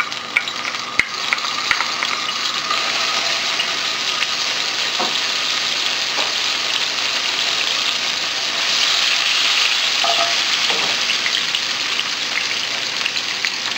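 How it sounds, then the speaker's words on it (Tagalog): Garlic and onion sautéing in hot oil in a deep cooking pot for pork kaldereta, a steady loud sizzle with occasional stirring scrapes and small pops, continuous and close throughout. "Once na mainit na yung oil, kailangan na nating igisa yung bawang at yung sibuyas."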